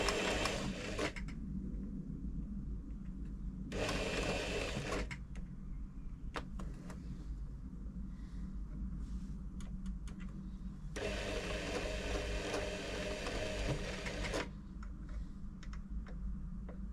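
An Elna 3007 sewing machine runs after servicing, with steady close mechanical stitching noise and two louder bursts of faster running.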